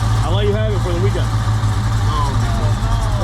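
Hellephant 300 engine running close by with a deep, steady low rumble throughout, someone talking over it.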